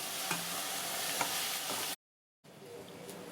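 Brinjal poriyal with sambar powder sizzles steadily in a pan while a spoon stirs and scrapes, with a few light taps against the metal. The sizzle cuts out briefly, then returns quieter.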